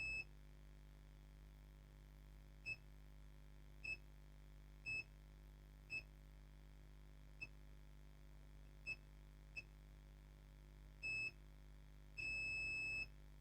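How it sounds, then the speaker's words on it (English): A multimeter beeping during a continuity check on a MOSFET on an HP 15s laptop motherboard under repair, a series of short, clear beeps with one longer tone near the end over a low steady hum. "You can hear the sound of the multimeter."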